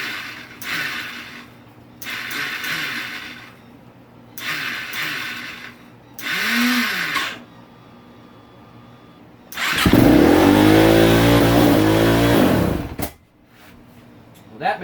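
A KTM 450SXF motorcycle with a worn starter clutch cranks in several short, stuttering bursts, then fires and roars loudly at high idle for a few seconds before cutting out.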